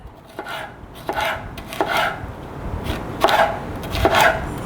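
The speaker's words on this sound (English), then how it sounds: "We're going to slice that up a little bit." A sharp homemade Bowie knife slices a red bell pepper on a cutting board with five evenly spaced crisp chops, close and distinct, each one cutting through the pepper and knocking the board.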